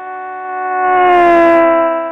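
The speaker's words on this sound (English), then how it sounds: "So this is the sound of a vehicle with its horn going, I think, driving past us." Vehicle horn blaring steadily as the vehicle drives past, a loud sustained tone that swells and falls away with a slight pitch shift, engine rumble rising underneath in the middle.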